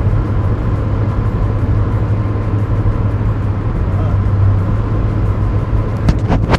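A car drives along an empty road in Oman, its steady engine and road noise droning continuously and fairly loud throughout, with no talking.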